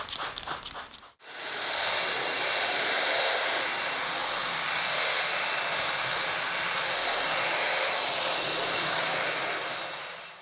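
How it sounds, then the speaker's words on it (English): DIY shop vac converted into a carpet extractor, spraying water in a loud, steady rushing hiss that holds for several seconds after a brief click at the start. "The water actually sprays really well."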